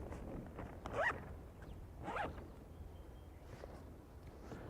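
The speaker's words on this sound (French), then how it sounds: "ouvrir les 4 zips des cambers" Camber zips on an RS Racing windsurf sail are opened in two quick, close zipper pulls about a second apart, followed by faint handling sounds in a quiet setting.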